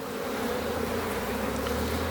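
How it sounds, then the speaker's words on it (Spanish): A dense, steady swarm of honeybees buzzes around a hive being built, a continuous close hum with no pauses. "traen suficiente abeja"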